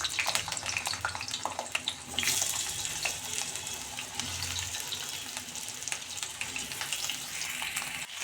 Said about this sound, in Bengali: তেল গরম হয়ে গেছে, এবার আস্তে আস্তে আলুগুলো দিয়ে দেব।